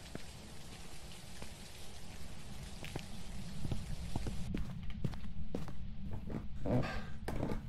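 Steady rain hisses through the video game Phasmophobia, a constant close wash of patter with scattered sharper drops and knocks, louder and denser in the second half, with no voices.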